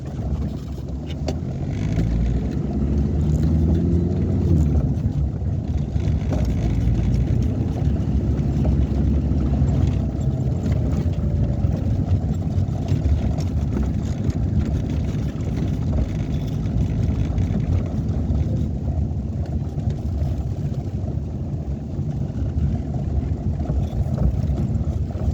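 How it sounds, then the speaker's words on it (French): A green Renault 4L car being driven, its engine giving a steady low rumbling drone with road noise that stays even and loud throughout, with no voices heard. "J'ai démarré la 4L en fait, la verte. J'ai roulé un peu avec"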